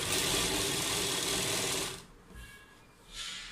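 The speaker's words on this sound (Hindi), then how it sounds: "अब दूसरी साइड भी फिटिंग की सिलाई लगा लेते हैं इसी" Sewing machine stitching the side seam of a cloth top, a fast steady whirring run for about two seconds, then a pause and a brief restart, close and clear.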